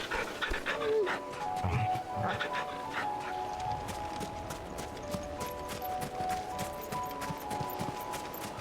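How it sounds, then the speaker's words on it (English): In Final Fantasy XVI, a puppy being petted pants and whimpers softly alongside light footsteps and game ambience, while a voice talks over it. "But you can pet a puppy."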